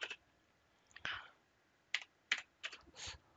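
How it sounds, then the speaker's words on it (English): Keystrokes on a computer keyboard while entering a tcpdump packet-capture command, heard as separate close clicks and short bursts of keys at irregular moments with quiet pauses between them. "To do that, type in TCP dump."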